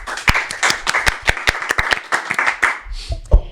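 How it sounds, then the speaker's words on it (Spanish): Applause from a small studio audience, a sparse run of distinct loud claps in an uneven rhythm over a few seconds, tapering off at the end. "Fuerte el aplauso por favor"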